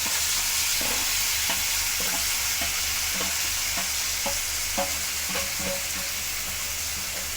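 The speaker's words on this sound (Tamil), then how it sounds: "இஞ்சி பூண்டு பேஸ்ட் வந்து சேர்த்து கொஞ்சம் லைட்டாக நல்லா வந்து வதக்கி வச்சிடலாம்" Onions sauté with ginger garlic paste in a pan for egg keema, giving a steady close sizzle broken by repeated scraping stirs of a spoon against the pan.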